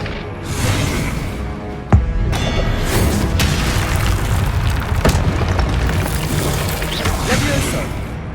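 Booming blasts of the Confringo spell in the video game Hogwarts Legacy, a sharp loud impact near the start followed by rumbling explosive bursts over dense combat noise.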